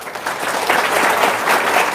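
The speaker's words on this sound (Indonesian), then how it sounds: "Tepuk tangan dulu dong" An audience at a motivational seminar breaks into applause, a dense, continuous roar of many hands clapping together, steady and fairly loud throughout.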